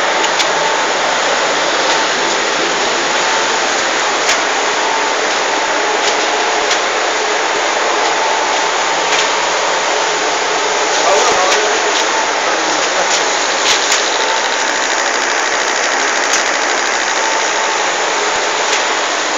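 A 4-colour servo flexo printing machine with a loadcell tension system runs with a loud, steady mechanical drone, broken by faint ticking and clicking at irregular intervals throughout, and no voices.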